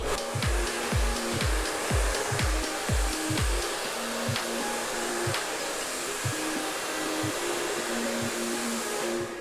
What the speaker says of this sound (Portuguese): Ou a gente segura com o próprio secador